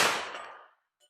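A single loud gunshot from a Ruger LC Carbine in 10mm firing a handload, a sharp close blast that decays over about three-quarters of a second, followed by a couple of faint high-pitched clinks.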